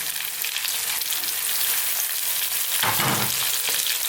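Lamb frying with chopped green chilli and sliced tomato in a pan, a dense, even sizzle heard close up, swelling into a brief louder burst near the end as ingredients are stirred, no voices.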